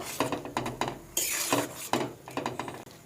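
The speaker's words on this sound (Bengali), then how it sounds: "এবার আমি একটু ঘেটে দেব।" A spoon stirring cauliflower dal in a metal pot, close scraping and clinking strokes repeating in an irregular rhythm, with no talking.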